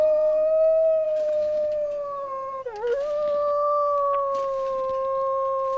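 Wolf howl in the survival video game The Long Dark: a long, loud, steady tonal howl with stacked harmonics that dips briefly midway, then holds, over faint background rustles, with no talk.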